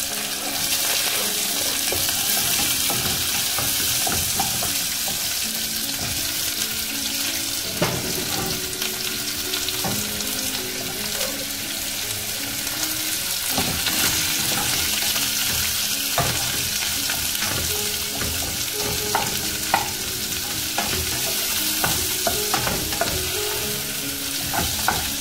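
Onion, ginger and garlic sauté in a pan for masala dosa filling, giving a loud, continuous close-up sizzle with frequent spatula scrapes and light clicks throughout. No speech.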